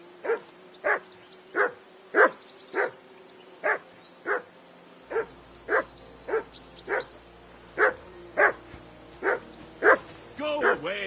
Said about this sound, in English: Call that dog, Henry.